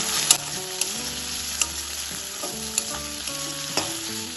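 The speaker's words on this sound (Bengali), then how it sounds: "চিংড়ি মাছটাও হালকা একটু ভেজে নেব।" Prawns rubbed with salt and turmeric sizzle steadily in hot oil with onion and garlic, lightly frying as a spatula clinks against the pan every half second or so; close and continuous, no talking.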